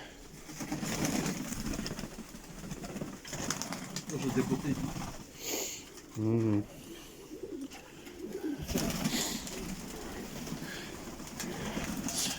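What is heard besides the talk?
pigeons cooing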